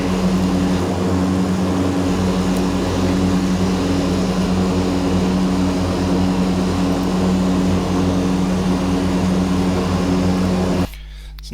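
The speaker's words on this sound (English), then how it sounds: "It's a noisy old aircraft." An old aircraft engine drones steadily and loudly from inside the cabin, a continuous tonal propeller hum that stops abruptly near the end.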